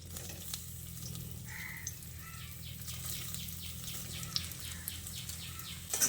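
Boiled, drained soybean chunks sizzling in hot mustard oil with a little salt, a quiet, steady crackle and hiss that continues throughout with a few brief sharper pops.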